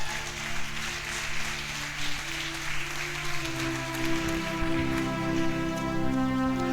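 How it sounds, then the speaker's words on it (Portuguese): A church congregation clapping in praise, a continuous dense patter of many hands under a sustained musical tone from instruments or voices. "louvo o Senhor com as palmas para eu voltar"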